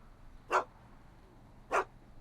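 Two short dog barks in the Back to the Future video game, about a second apart, fairly loud against a quiet background.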